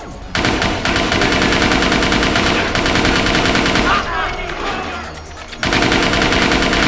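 Sustained rapid automatic gunfire from a firefight with guards in Watch Dogs 2, loud and continuous bursts with a brief thinning in the middle before resuming at full intensity.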